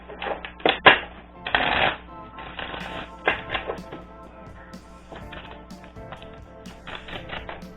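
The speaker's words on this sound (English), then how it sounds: "Let's do a bridge shuffle." A rapid riffling burst of playing cards being bridge shuffled during a tarot reading, followed by softer taps and shuffling rustles close by.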